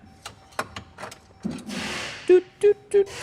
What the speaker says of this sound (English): Not the boxes. The door chime.